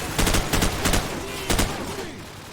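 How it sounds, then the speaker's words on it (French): M16 rifle fire in the video game Call of Duty 4, several loud close bursts of rapid shots separated by short gaps, with the last burst trailing off into quieter ambience. "La M16, c'est pas une rafale ça?"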